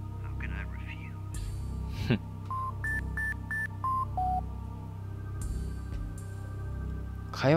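A short sequence of electronic phone-dial tones in Dino Crisis, several beeps at different pitches in a quick stepped pattern, over a low steady hum with no talking.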